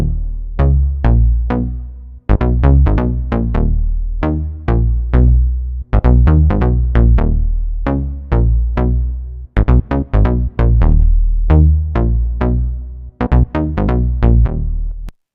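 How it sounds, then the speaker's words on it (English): Electronic synth bass made of two saw waves, playing a loud, punchy rhythmic pattern of short plucked notes with brief gaps, alone and without talk. "the bass is a Serum preset that I made"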